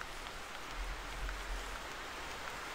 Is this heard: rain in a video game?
yes